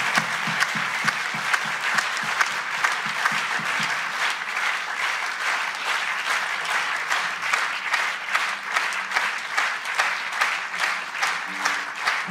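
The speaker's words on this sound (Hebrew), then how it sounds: "אני מתכבד להזמין לכל מחיאות הכפיים שלכן ושלכם" A concert audience applauds the arrival of the host at an orchestra show, steady sustained clapping from a large crowd that carries on alone throughout, with a brief voice at the start.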